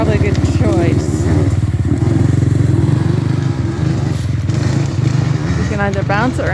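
Dirt bikes in an enduro race riding past, engines buzzing and revving close by with rising and falling pitch, some clatter from the terrain, and voices talking over the engine noise.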